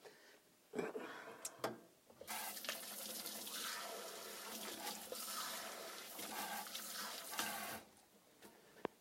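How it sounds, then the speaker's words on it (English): Water from a tap runs steadily for about five seconds as hands are washed under it in a kitchen, bracketed by faint clicks and handling noises before and after. "so I'm going to first wash my hands."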